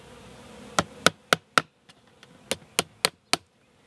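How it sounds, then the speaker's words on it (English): Sharp hammer taps nail a screened entrance onto a beehive box, two quick sets of four evenly spaced strikes with a brief pause between, close and crisp over faint buzzing of bees. "I have here a screened entrance, and I just nail it or tack it in place."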